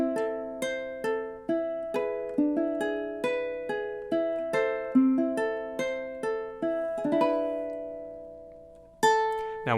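House of the Rising Sun, measures 3 and 4, is fingerpicked on a ukulele in a steady lilting triple rhythm of bright, close plucked notes that closes on a strummed chord left ringing, then a final pluck, with no talking.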